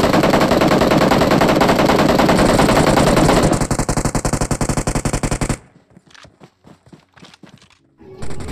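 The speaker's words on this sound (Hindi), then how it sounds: "फायरिंग वायरिंग करे जा रहे हैं।" Automatic gunfire in the mobile battle-royale game BGMI, long loud rapid bursts of machine-gun shots that end abruptly, followed by quieter scattered single shots and footstep-like taps in the distance.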